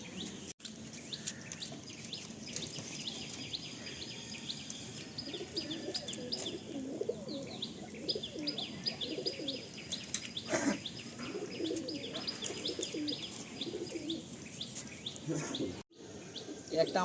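Pigeons in a three-section breeding loft coo and chirp steadily throughout, a busy, close flock murmur with scattered sharper calls and faint voices underneath.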